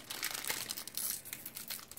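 Plastic wrapping on a pack of Guardians of the Galaxy Vol. 2 trading cards crinkles and crackles in quick, uneven bursts close to the microphone as someone struggles to open it, fairly quiet overall.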